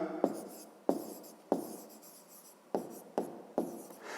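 A pen writes on paper during a fifth-grade math exercise, making six or seven crisp, close scratchy strokes at a quick irregular rhythm, each starting with a sharp tap and trailing off.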